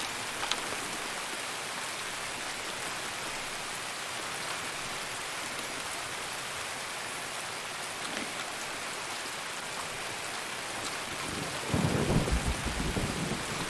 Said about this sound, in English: I can't see shit in this rain.